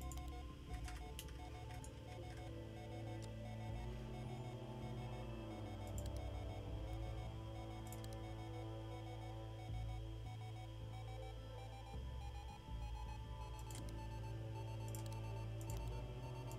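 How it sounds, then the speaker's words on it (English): In the space game Ostranauts, a proximity alarm sounds while docking with a dense, steady electronic tone that pulses without pause, joined by sharp periodic ticks, all faint and unbroken by speech. "Just a proximity alarm."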